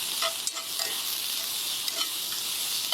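Food sizzles steadily in a hot pan, searing as it is turned and stirred with tongs, with a few faint clicks of the metal tongs against the pan over the constant bright frying hiss.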